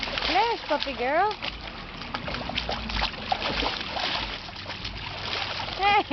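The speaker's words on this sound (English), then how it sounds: "don't be splashing the water out at me" A puppy splashes and sloshes in water, with continuous close splatter and a voice speaking and exclaiming over it.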